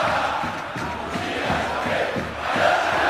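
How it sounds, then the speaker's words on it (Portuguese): Palmeiras fans sing and chant in the stadium at the 2008 Campeonato Paulista final against Ponte Preta, a dense, steady roar of massed voices that builds slightly toward the end, with a commentator's voice faintly mixed in. "A torcida do Palmeiras canta"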